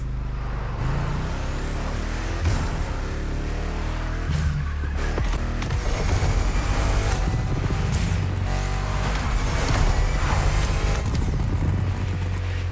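Car exhaust and engine from The Crew Motorfest racing game, with revving, rising and falling engine tones, gear shifts and sharp pops running throughout at moderate level.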